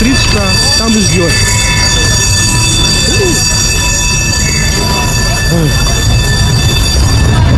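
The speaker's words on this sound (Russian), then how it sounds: "Вот даже электричка там ждет." An electric commuter train at a Moscow station, with loud continuous rail rumble and metallic squeals mixed into busy crowd noise and voices nearby.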